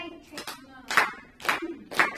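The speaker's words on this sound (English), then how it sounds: "It's our time to clap together." Steady rhythmic hand claps from children in a music class, about two per second, with children's voices chanting along between the claps.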